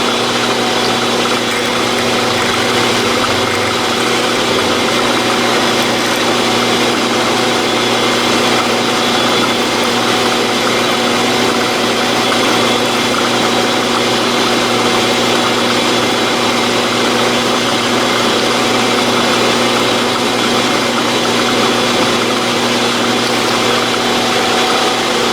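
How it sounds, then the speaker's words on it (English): A lathe runs continuously while an 8-32 tap drill bores about half an inch deep, giving an unbroken, even mechanical hum with steady whining tones and no pauses. "Now we'll put an 832 tap drill in there for about a 1/2 inch deep."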